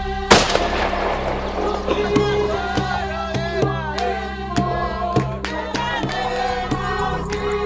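A single sharp, loud rifle shot cracks out near the start during a hunt in South Africa, followed by a scatter of quieter clicks and handling knocks over a low, steady outdoor background.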